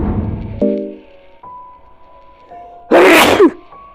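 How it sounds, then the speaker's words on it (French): A single loud, sharp sneeze bursts out near the end, following a few quiet tones and a short hum, close to the listener. "Désolé pour mon éternuement."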